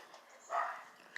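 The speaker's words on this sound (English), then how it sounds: "you're gonna have to deal with dogs barking in the background apparently" A dog barks once in the background, faint and distant, a short muffled burst in an otherwise quiet room.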